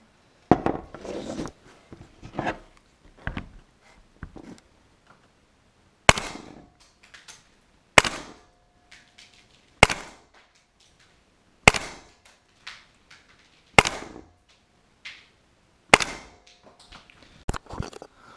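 An FN FNX-45 Tactical gas airsoft pistol fires 0.20 g BBs through a chronograph: about a dozen sharp, loud, close single cracks at irregular intervals, each followed by a brief mechanical clack and silence.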